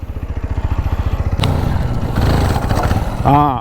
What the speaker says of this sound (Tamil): அதே மாதிரி நல்லா ஆக்சிலேஷன் கொடு.